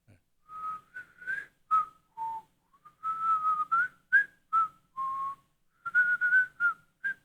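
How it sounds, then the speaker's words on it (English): A melodic tune is whistled in short phrases with brief pauses between them, clear and close, with no talking. "show the audience you were whistling a while ago"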